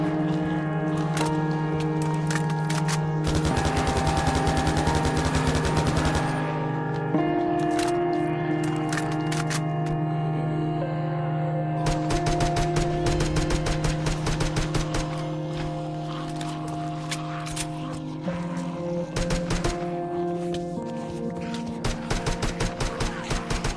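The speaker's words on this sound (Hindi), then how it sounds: "मेरे एके वाली गन में थोड़ी बहुत एमो बची हुई थी, तो मैं लास्ट उसको एमो को यूज कर लेता हूँ" An AK rifle in Minecraft fires at attacking zombies in rapid clattering bursts, with several volleys spread across the stretch over a loud, continuous droning game soundtrack.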